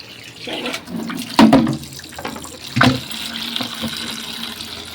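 Tap water runs into buckets in a home kitchen, a soft steady trickle with a couple of louder splashing surges, heard alone and close by.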